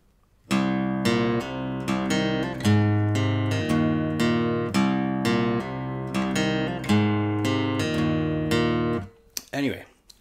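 Steady, rhythmic guitar riff, played alone up close with repeated plucked note patterns and an open sixth string, running several bars before stopping with a brief rustle at the end.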